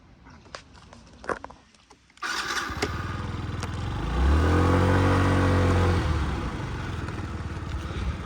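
A Yamaha Jog SA 55 J 2017 fuel-injected scooter starts after a few clicks, then its small engine idles and revs up and down for a short test ride, loud and close throughout.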